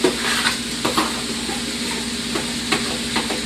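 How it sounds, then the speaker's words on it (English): Broccoli and other vegetables sizzle and hiss steadily in a pot for a vegan chicken pot pie, a loud, close, continuous frying crackle with a few stirring clatters and no talk. "Everything goes inside this pot. Ooh, y'all hear that sizzle"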